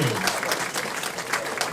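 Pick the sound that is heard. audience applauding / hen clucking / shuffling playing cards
audience applauding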